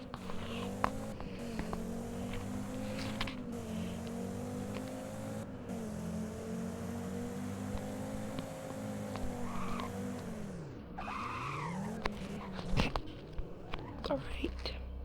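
A 2001 Audi RS4 in the Driving Empire video game laps a racetrack, a steady engine drone shifting pitch through gears with dips and rises, tire skids and scattered clicks, a voice murmuring softly over it.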